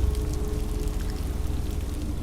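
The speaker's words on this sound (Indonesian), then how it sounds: "Suara rintik hujan di atas jas hujanku terdengar seperti bisikan ribuan mulut" Steady rain patters on a raincoat, a dense, continuous hiss of countless small drops close by, with no voices.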